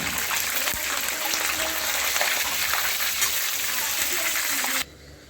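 Green chillies frying in a pan, giving a dense, continuous sizzle that cuts off abruptly near the end.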